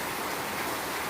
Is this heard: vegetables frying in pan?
no